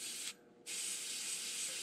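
An airbrush sprays metallic blue paint onto a custom shad fishing lure at low pressure, giving a steady close hiss that cuts out briefly and resumes, with no talking.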